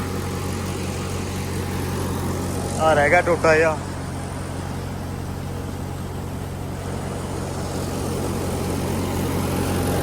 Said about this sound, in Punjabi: ਟਰੈਕਟਰ ਲੱਗਾ ਟਿਕਾਣੇ